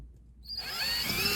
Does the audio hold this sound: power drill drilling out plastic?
yes